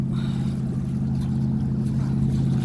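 A sailboat moving at about nine miles per hour across Lake Lanier, a steady low droning hum with a constant wash of water running beneath it and no clear individual splashes.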